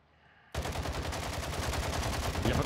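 Sustained automatic gunfire from a SCAR rifle in the shooter game Warzone 2, erupting suddenly after a quiet moment and continuing as a loud, rapid, steady burst of shots with no talking.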